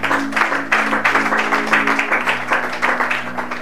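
A church congregation claps at a lively worship service, steady rhythmic hand clapping throughout, moderately loud and close.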